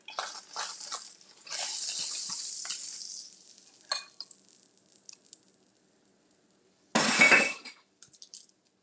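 A spatula scraping banana-and-egg pancakes on a buttered griddle, with sizzling bursts and sharp scraping strokes, near and clear, separated by quieter pauses.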